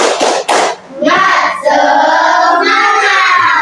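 Group of people doing rhythmic 'tepuk semangat' clapping in an Indonesian teacher-training session, loud and close, a few sharp claps then a burst of shouting voices.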